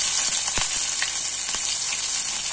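Garlic and green chili frying over a low flame in a pan for aloo methi, giving a steady, close sizzle with a few brief clicks and stirring touches throughout.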